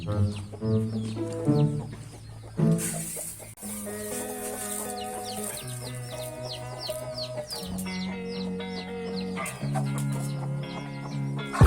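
Chicks and hens cluck and peep steadily on a Thai poultry farm, close and continuous, with a brief harsher squawk early on and no talking.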